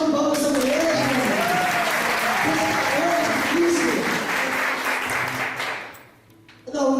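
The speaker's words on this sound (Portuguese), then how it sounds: "vamos dar uma salva de palmas para essa mulher, gente." An audience at a church seminar claps loudly and continuously, then the applause fades out near the end before another sound starts.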